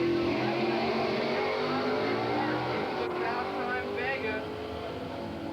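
A 1977 Chevy Vega drag car with a 427 Chevy engine launches at the 1983 Englishtown Springnationals, a loud, sustained engine roar building as it pulls away, with a voice talking over it.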